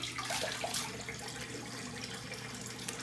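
Cold water runs steadily from a tap for a rinse after a shave, a continuous close splashing hiss that fills the whole stretch with no talk over it.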